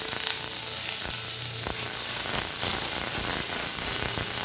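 Dry red chilli, five-spice seeds, slit green chilli and chopped onion sizzle in hot oil in a wok, a steady close crackling hiss with occasional sharper pops and scraping stirs.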